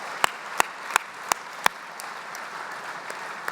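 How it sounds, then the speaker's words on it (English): An audience gives a unison clap at an awards event for kids, five sharp, evenly spaced claps close together, then quiet room noise. "Let's give them 3 claps."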